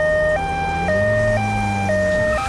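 A two-tone ambulance siren in a kids' cartoon wails steadily, alternating high and low pitches at a regular pace over low traffic rumble.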